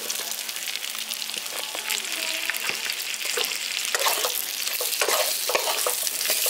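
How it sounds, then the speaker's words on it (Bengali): Pumpkin and pre-fried potatoes frying with spices in a pan, giving a steady, dense sizzle with frequent close scraping strokes of a stirring spoon throughout. "ভালো করে মশলাটার সঙ্গে একটু কষিয়ে নিচ্ছি।"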